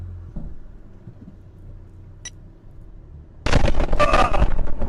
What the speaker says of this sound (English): This is another clip of the Tigettes explosion right here.